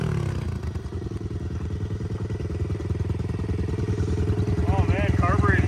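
A carbureted 110cc dirt bike engine holding a high idle, a steady fast-pulsing mechanical putter close by, with a voice coming in near the end.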